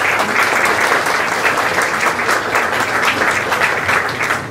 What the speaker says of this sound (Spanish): pedimos nuevamente un fuerte aplauso de agradecimiento.